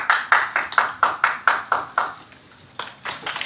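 Loud, crisp rhythmic clapping at a film press conference, evenly spaced claps that pause briefly and then resume, sounding close and bright in a small room.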